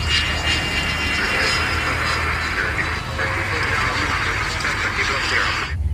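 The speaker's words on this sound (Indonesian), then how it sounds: "ada pesawat tempur" A fighter jet roars past with a steady, loud engine rumble and whine, while a person talks over it.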